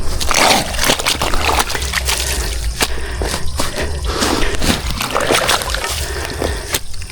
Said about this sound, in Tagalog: Ang tubig dito.